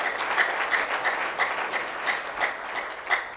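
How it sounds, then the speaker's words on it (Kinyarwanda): A crowd applauds for Jesus at a religious gathering, with steady, dense clapping that holds at an even, moderately loud level throughout and no talking over it. "Amashyi menshi ku Mwami Yesu."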